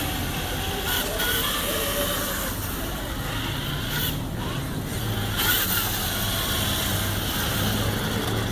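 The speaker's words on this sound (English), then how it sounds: "Driving real slow down the highway." Vehicles rolling slowly down a highway during a humane society car cruise in Hillsboro, Ohio: a steady, broadband road and engine rumble with continuous wind-like hiss, fairly constant in level throughout.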